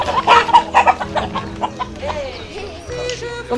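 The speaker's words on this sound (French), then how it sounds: "les poulets du village élevés dans la nature" Free-range village chickens cluck repeatedly and fairly close, with a busy run of clucks early on that eases into softer calls, no talking.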